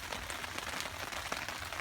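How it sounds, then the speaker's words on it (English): Rain falling at a woodland and beach campsite at dusk, a steady dense hiss of drops pattering on surfaces with occasional louder taps, continuous and fairly soft. "It's starting to go dark and the rain's on"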